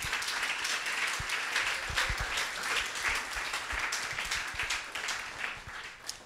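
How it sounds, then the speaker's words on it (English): An audience at a TypeParis talk applauds the year's type design students: a full, continuous wash of clapping with occasional low thumps, holding steady before tapering slightly at the end. "So please, a round of applause for this year's students of TypeParis."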